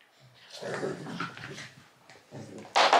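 A small dog whimpers and yips close by while playing with a toy, giving a string of high, whiny cries with short pauses and a louder burst at the end.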